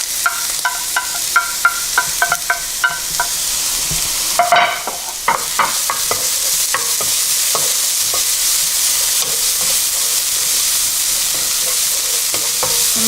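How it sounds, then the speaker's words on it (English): Garlic and ginger fry in oil over medium-high heat for a clams with basil leaves dish, a steady close sizzle broken by clattering stirs and spatula scrapes, busier early and settling into an even hiss. "first I'm going to cook my garlic and ginger together"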